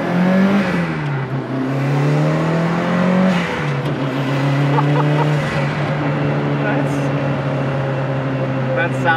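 A Lancia Delta Integrale rally car engine pulling through the gears from inside the cabin, rising tones that drop at each shift, loud and steady with people talking over the engine.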